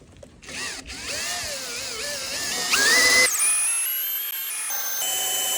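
A power drill fitted with a titanium bit bores into metal at its lowest speed in drill mode, a loud continuous whine with warbling, shifting pitch that steadies into high sustained tones as it cuts deeper.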